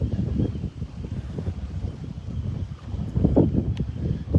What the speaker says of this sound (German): Windig ist es, windig.